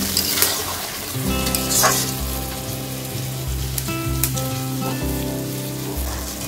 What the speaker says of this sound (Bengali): এই সিদ্ধ জলটা বারে বারে দিয়ে অল্প অল্প করে দিয়ে কষতে থাকতে হবে